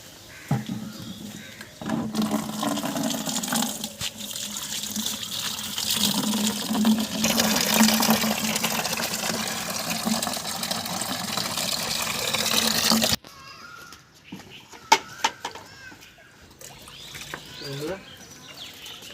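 Water gushes and splashes into buckets for a newly planted Thai Katimon mango tree in a loud, steady rush that stops abruptly, followed by quieter outdoor sounds with a few faint knocks and birds.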